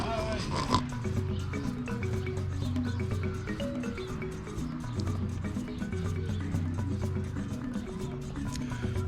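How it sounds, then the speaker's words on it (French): Miniature Göttingen pigs oink at the zoo section of the Le Pal amusement park. Their grunts blend into a busy, steady background of crowd noise and other sounds across the whole stretch. "Des cochons miniatures de Göttingen."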